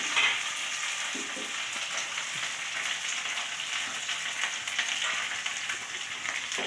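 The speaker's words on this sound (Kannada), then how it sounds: "ನೋಡಿ ಈ ರೀತಿ ಫ್ರೈ ಆಗ್ತಾಯಿದೆ" Onions and curry leaves frying in oil for a dry pepper chicken, a steady close sizzle and crackle with faint stirring, no talk over it.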